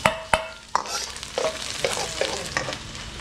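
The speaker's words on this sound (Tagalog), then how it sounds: "So bawang sibuyas, gigisa muna natin yung giniling." Garlic, onion and ground meat sautéing in a pan, a close steady sizzle broken by several sharp clacks of a utensil stirring against the metal.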